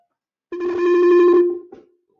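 A FreePBX desk phone plays back a *43 echo test as a loud, steady tonal sound. It lasts about a second and a half and then cuts off, with no talk over it.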